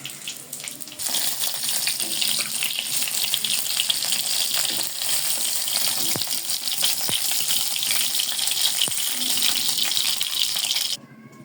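Fish sizzles and crackles steadily in hot oil in a wok, a dense close frying hiss running nearly unbroken before cutting off at the end.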